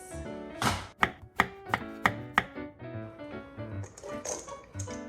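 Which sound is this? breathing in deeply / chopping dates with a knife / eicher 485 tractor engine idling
chopping dates with a knife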